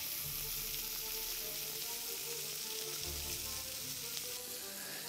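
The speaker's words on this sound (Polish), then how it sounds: "Mięso nam się smaży" Meat sizzles and crackles steadily in a hot pan, a constant bright frying hiss with occasional soft stirring sounds.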